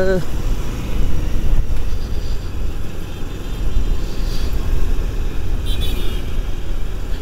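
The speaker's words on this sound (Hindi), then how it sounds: "और थोड़ा सा मैं गाड़ी को भगाता हुआ" A motorcycle rides along a wet road toward a crowded market during Holi, with a continuous low engine and wind rumble that barely changes, under the rider's talk.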